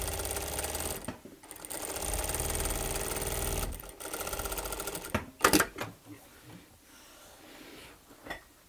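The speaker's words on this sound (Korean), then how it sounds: "이러한 부분에 스티치를 때리는 거예요. 근데 이 스티치 놀이발을 사용하면은 훨씬 일정하고 이쁘게 박을 수가 있습니다." Sewing machine fitted with an edge-stitch presser foot, stitching in two steady, loud, rapid bursts of close mechanical whirring and clatter with a short pause between, then a few sharp clicks and handling knocks as it stops.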